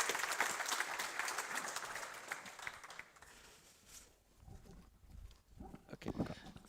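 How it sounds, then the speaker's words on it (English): An audience at a DKNOG15 network conference applauds at close range, with dense clapping that fades after about three seconds, followed by scattered noise and rustling. "So let's give them a big applause."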